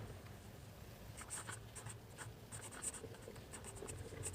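A pen scratches across paper as a maths solution is written out by hand, faint close scribbling in short uneven bursts over a low room hum, with no voices.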